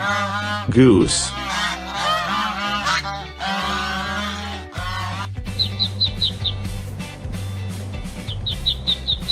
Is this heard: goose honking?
yes